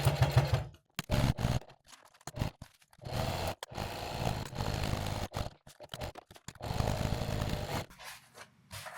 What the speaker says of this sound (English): I'll start by sewing the pocket, just 1/8 inch seam allowance, just a temporary stitch just to hold it in place